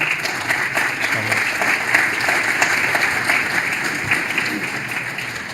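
A conference audience applauds with steady, dense clapping that holds for several seconds at an even level.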